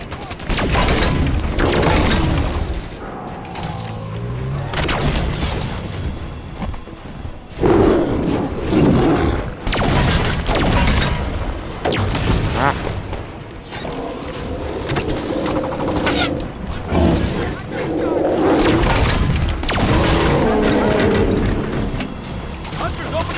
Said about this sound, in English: Hunter's opening fire!